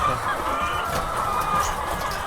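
Chickens clucking continuously, many birds together in a busy, close chorus with steady background din inside a 1,000-head poultry house.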